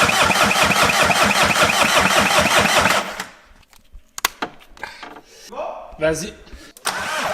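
A 1.9 TDI diesel engine is cranked with the key while the fuel system is primed, a loud rhythmic starter churn lasting about three seconds without catching, then workshop clatter and brief talk.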